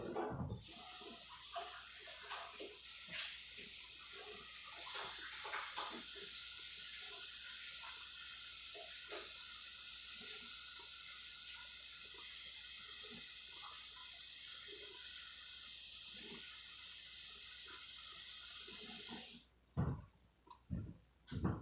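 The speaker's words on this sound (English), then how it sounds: "the reason I've rinsed my hands off there" Hands rinsed under a running kitchen tap while cleaning up after slicing and filleting poultry, a steady close rush of water lasting about nineteen seconds before it is shut off, leaving brief clatters and handling noises at the end.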